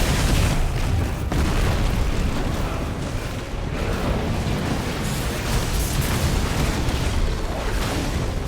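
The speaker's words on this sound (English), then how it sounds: "Explosion." A big explosion in the video game Final Fantasy XVI fills the mix with a dense, sustained roaring rumble, loud and continuous with no clear break, and no talk over it.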